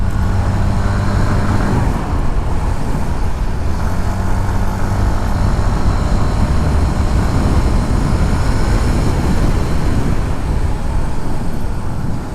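A 2025 Yamaha Ray ZR 125 scooter is ridden on the road, producing a steady, loud engine drone mixed with wind and road rumble throughout, with no speech.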